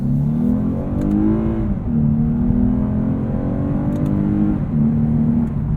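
A 2022 Lexus RC 350 F Sport AWD engine pulls hard in manual mode with paddle shifts, a loud steady drone rising in pitch, dipping briefly at an upshift and climbing again.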